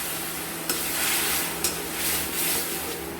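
Ground spices (cumin, coriander, Kashmiri chili and turmeric) sizzle steadily as they are stir-fried in a pan for a chickpea ghugni with chicken, with rhythmic stirring strokes scraping through the close frying noise.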